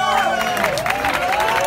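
Crowd at a concert honoring a female rock singer cheering and applauding, a dense roar of clapping and whoops under a sustained sung or wailing vocal tone, loud and continuous throughout.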